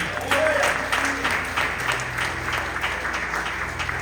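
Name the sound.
congregation applauding during church service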